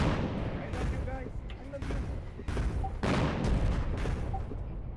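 Guns firing in a naval video game, with heavy booming salvos rolling in repeatedly over a continuous rumbling battle din, while players talk.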